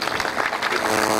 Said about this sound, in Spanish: pido un fuerte aplauso para todos ellos.